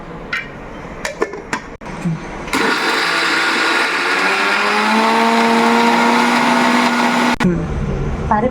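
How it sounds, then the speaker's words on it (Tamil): A kitchen mixer grinder grinds soaked lentils without water for paruppu urundai. A few clicks and knocks come first, then a loud, steady motor whir runs for about five seconds before cutting off abruptly. Nobody speaks. "இப்போ தண்ணி இல்லாமல் நம்ம பருப்பை மட்டும் எடுத்து அரைக்கணும்."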